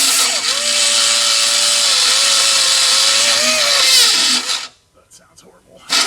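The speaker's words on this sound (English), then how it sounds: "I got to grind the mount out so that the bolt will go through." A grinder cuts into a Ford Mustang suspension mount, a loud, close, sustained high whine with shifting pitch for over four seconds, then stopping, followed by quieter rattles as the tool spins down.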